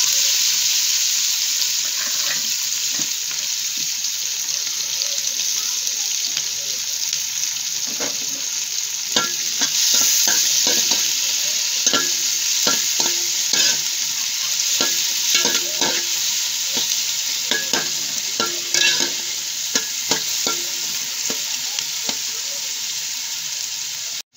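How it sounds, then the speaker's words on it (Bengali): Onions frying in hot oil in a pot, a loud continuous sizzle heard up close, with irregular stirring clatters of a utensil against the pot through the middle. "দেখুন আমার পেঁয়াজটা অনেকটা ভাজা ভাজা হয়ে এসছে।"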